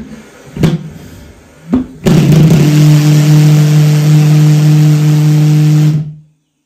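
A homemade pulse jet engine pops twice on ignition attempts, then catches into a loud steady droning roar for several seconds before cutting off abruptly.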